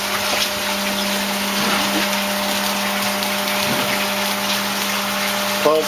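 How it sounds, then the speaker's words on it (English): Water pump humming steadily in a recirculating tilapia tank system, drawing from a sump in a cabinet base, with a constant tonal drone and water noise throughout and a brief knock near the end. "Then it comes out of the sump directly to the pump."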